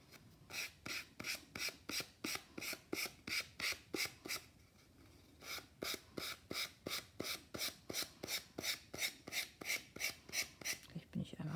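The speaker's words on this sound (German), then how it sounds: "Dabei schleift man nochmal schön die Ecken an und Kanten an." A file rasps in quick, regular back-and-forth strokes along the edges of a lacquered wooden decoupage tag, about two dozen close, even strokes with a brief pause partway through and no voice.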